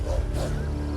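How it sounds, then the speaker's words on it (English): Hungry wolves stalking in the grass in the video game Black Desert Online give a brief, close, low rumbling growl, heard alone. "Do you see those hungry wolves stalking about in the grass?"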